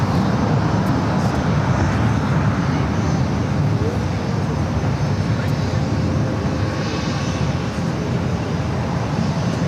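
A Lufthansa Boeing 747-8 taxis at LAX and makes a right-hand turn onto a taxiway, a steady engine rumble and hiss at moderate distance holding evenly throughout.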